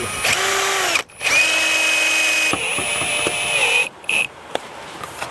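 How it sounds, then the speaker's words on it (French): A power drill drives screws with washers into the back and side panels of an insulated garden shed, whining loudly in several bursts with brief stops, pitch shifting as each screw seats, ending in a short final burst and faint clicks. "je visse le panneau arrière dans le panneau latéral avec les vis V3 équipées d'une rondelle"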